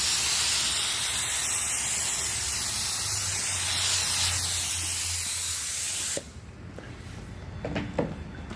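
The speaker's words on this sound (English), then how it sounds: "what we're going to do is we're going to spray the activator." Activator is sprayed from a can onto carbon-pattern hydrographic film floating on water, a loud continuous hiss lasting about six seconds before it cuts off abruptly, leaving faint room noise and a few small knocks.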